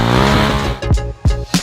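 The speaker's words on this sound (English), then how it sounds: "it's time to slip your rear tire" A car drifting with its rear tires slipping, clutch released at full steering angle under half throttle, makes a loud engine roar with three short tire squeal bursts near the end.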